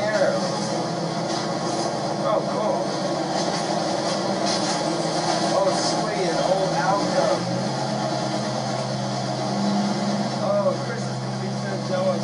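Steady low rumble and grinding of an Alco locomotive hauling a train on a Norfolk Southern line, continuous and fairly close throughout.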